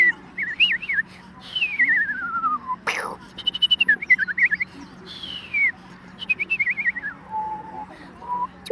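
A person whistles a series of warbling, bird-like trills and slides, imitating birdsong, with short pauses between phrases and a faint steady hum behind.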